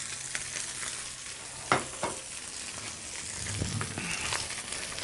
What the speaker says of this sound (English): we just leave that just cooking that way in the pan, and it's just going to get nice and golden and crisp on the outside